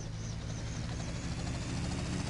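A helicopter in the video game GTA Vice City thrums with a loud, continuous rotor and engine drone, close and steady throughout with no talk.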